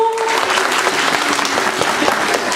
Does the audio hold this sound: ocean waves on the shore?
no